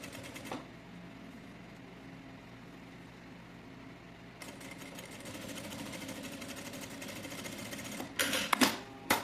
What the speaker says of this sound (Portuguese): E agora nós vamos fazer aquela costura de pesponto.